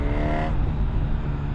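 A 2025 Honda CB1000 Hornet SP motorcycle exhaust gives a deep, bassy, rattling roar as it accelerates. The rising engine note is loud and close, then settles into a rough steady drone.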